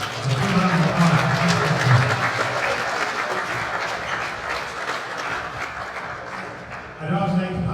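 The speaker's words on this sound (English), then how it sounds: "So give a round of applause." An audience claps steadily at the 2019 All-Ireland 4-Wall Men's Final handball event, a sustained wash of applause with voices murmuring underneath, fading briefly before a speaker resumes.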